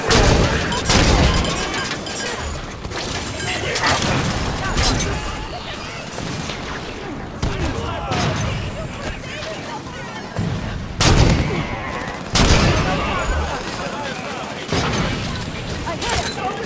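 Heavy turret gunfire in Halo 5, booming repeated bursts with sharp blasts and explosions across the whole stretch, loud and close, with radio-style voices talking over it.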